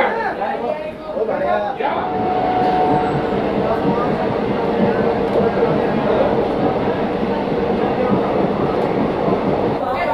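A DEMU train runs toward Gangapur City railway station on its inaugural journey, a loud, continuous rumble of wheels and carriages with rhythmic clatter, while a person talks over it at the start.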